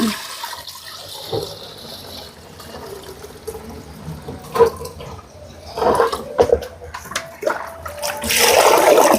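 Water splashes and pours intermittently as soaked rice is rinsed by hand for idli batter, with sloshing bursts growing louder toward the end; no talking.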